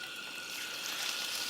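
Leftover egg batter poured over pieces of fish for frying, a soft steady liquid pour and splash, close and fairly quiet, with no talk.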